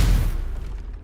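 A Confringo blasting spell detonates in Hogwarts Legacy, a deep booming burst up close that rolls off into a fading rumble with no talking.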